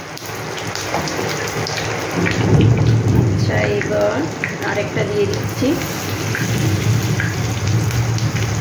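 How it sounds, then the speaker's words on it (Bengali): Heavy rain pours steadily in a dense wash with a low thunder rumble swelling underneath, while someone speaks briefly over it indoors. "এখন দেখো বৃষ্টি পড়ছে।"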